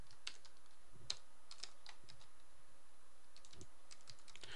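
Computer keyboard typing Java code, a steady run of quick clicky keystrokes with a few louder taps, close and alone without talk.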